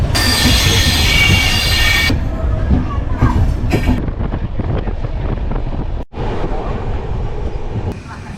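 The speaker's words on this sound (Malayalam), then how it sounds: "എറണാകുളം സൗത്ത് റെയിൽവേ സ്റ്റേഷനിൽ നിന്ന് നമ്മുടെ ട്രെയിൻ എടുത്തിരിക്കുക" A train leaving Ernakulam South railway station, with a loud, continuous rumble of wheels on track, heavy wind buffeting at the start and a brief dropout midway.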